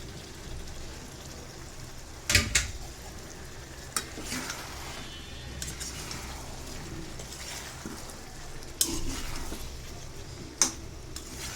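Pieces of bottle gourd drop into hot oil and fry, a soft, steady crackling sizzle punctuated by several sharp clanks of a utensil against the pan.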